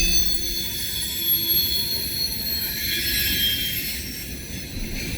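A long freight train of large boxcars, including Norfolk Southern cars, rolls past at Elkhart with a continuous heavy rumble and thin, high, sustained wheel squeals running over it.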